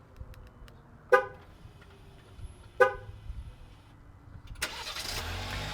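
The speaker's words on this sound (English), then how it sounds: "Let's go ahead and remote start it again." A Jeep Compass started remotely from the key fob, with two short horn-like chirps a second or so apart, then the engine catching and settling into a steady, moderately loud idle.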